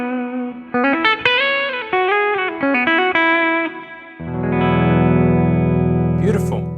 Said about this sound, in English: And then finally, the bridge.